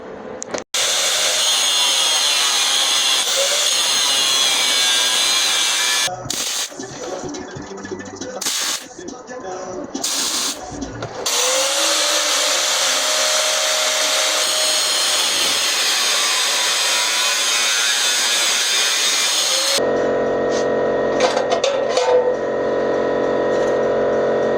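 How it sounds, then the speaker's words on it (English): A power cutting tool slicing out a middle piece of a 1968 Ford F100 frame, a loud sustained metallic whine that briefly stops and restarts, later shifting to a different steady grinding tone. "And then we'll cut out this middle piece here."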